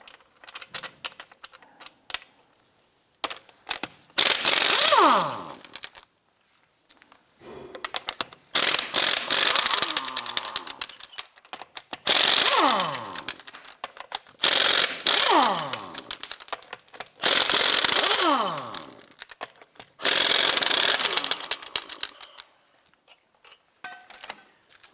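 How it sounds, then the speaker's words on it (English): Ratchet with a 22mm socket working lug nuts off a 2015-2020 Cadillac Escalade wheel, giving several bursts of rapid clicking separated by short pauses, loud and close. "Using a 22mm socket, we're going to loosen and remove our lug nuts."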